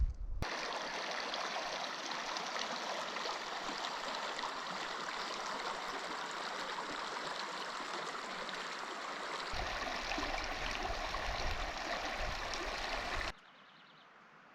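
Steady, full rush of the West or Middle Fork of the Gila River flowing beside a backpacking campsite, close and continuous, then cutting off abruptly near the end.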